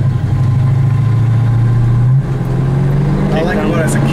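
The 318 V8 of a 1974 Plymouth Barracuda runs loud and close, holding a steady rumble that shifts pitch partway through, with someone talking over it.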